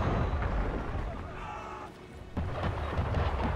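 Artillery bombardment in Assassin's Creed 3 rolls as deep, heavy rumbling, with a loud boom at the start and another sharp impact later over continuous low roar.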